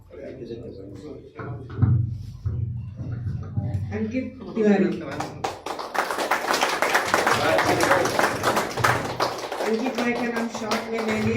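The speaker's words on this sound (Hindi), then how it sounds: "बाहर जो लोग बैठे हैं उन लोग भी थोड़ा ताली बजा दीजिए।" Audience at an indoor awards ceremony for unorganised sector workers breaking into clapping that swells and holds steady in the second half, with a voice on a loudspeaker talking over the start.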